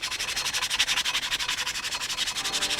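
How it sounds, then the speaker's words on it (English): Regular sandpaper rubs back and forth over a rusty steel fitting in fast, even strokes, a close, loud, rhythmic rasping heard alone about eight times a second. "So the first step in cleaning up the steel is actually just removing some of this rust that has a little bit of like three-dimensional texture to it."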